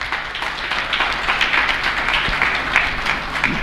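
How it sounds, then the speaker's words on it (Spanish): A congregation applauding in the Santísima Cruz chapel in Ñemby, steady dense clapping from many hands filling the room at an even level. "Y un fuerte aplauso a nuestra comunidad"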